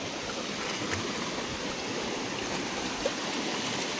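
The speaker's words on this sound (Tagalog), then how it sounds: "Baha ang river." Steady, dense rushing of a fast-flowing flooded river after heavy rain, continuous and loud throughout with no pauses.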